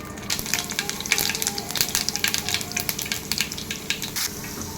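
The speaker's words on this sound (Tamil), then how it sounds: "அதே பேனில் கடுகு, வெந்தயம், கொஞ்சம் ஜீரகம் போட்டுக்கலாம்." Mustard seeds, fenugreek and a little cumin sizzle and crackle in a hot pan, a steady close-up frying hiss with dense popping throughout.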